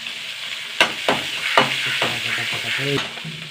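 Three dried red chillies fry in hot oil, making a steady close sizzle broken by sharp stirring clicks, with a brief voice near the end.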